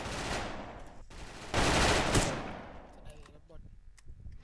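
Video game gunfire in a bomb-planting round, rapid bursts of shots near and loud, with a strong sustained volley in the middle before trailing off into scattered distant reports.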